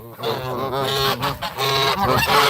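A pet goose honks repeatedly at close range, loud nasal calls in quick uneven bursts with short gaps, and no talk over them.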